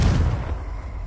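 A Confringo blasting spell detonates in Hogwarts Legacy, a single loud, deep boom with a rumbling low-end tail that fades over about a second, heard alone.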